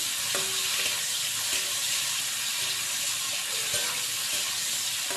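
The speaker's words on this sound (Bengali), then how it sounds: "সামান্য নাড়াচাড়া করে চিংড়ি মাছটা ভেজে নিচ্ছি দেখো" Prawns fry in a pan for Bengali kochupata chingri, giving a steady, even sizzle with a few light knocks from stirring throughout, no voices.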